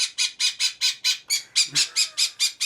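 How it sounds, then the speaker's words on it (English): Pet birds squawking in a steady series of about a dozen loud, harsh calls at an even, rapid rhythm, close by, briefly interrupted by a low thump partway through. "Even my birds are crazy."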